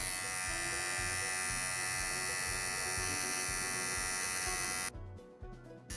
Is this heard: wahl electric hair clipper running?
yes